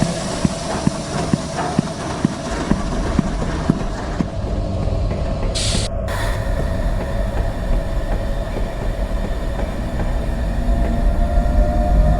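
A steam engine train rumbles steadily and close, with rhythmic clacking pulses early on, a hissing burst of steam midway, and a continuous heavy mechanical drone throughout.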